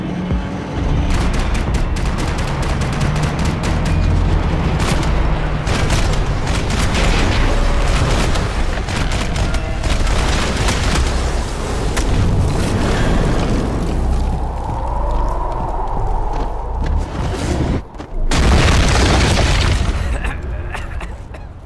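Video game gunfire and explosions from Max Payne 3: dense, loud bursts of shots and booming blasts run almost nonstop for over twenty seconds, with a brief drop near the end before another heavy burst, and game voices mixed in.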